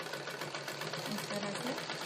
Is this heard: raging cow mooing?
no